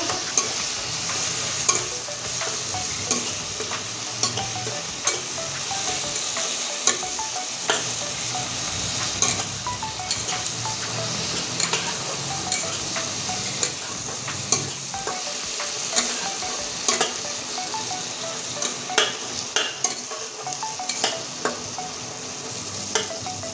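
Cumin paste and chili paste sizzle in hot oil with garlic for a Bengali-style egg and potato curry, a continuous close frying hiss broken by regular scraping stirs.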